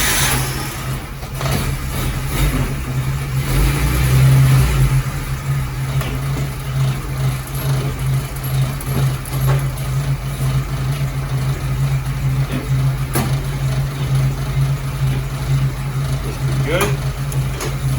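A car engine runs steadily at a loud, constant idle with a low droning hum and a slight swell in revs early on, heard close up and continuous throughout.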